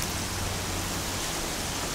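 Rain in the video game Horizon Zero Dawn falls as a dense, even hiss of downpour, steady and alone for a couple of seconds.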